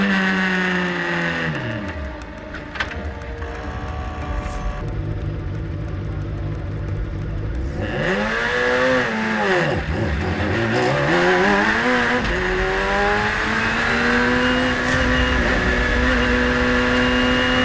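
A race car drives fast during a race in Dubai, its engine loud and close, rising and falling through gear changes and sweeping revs, with no one talking.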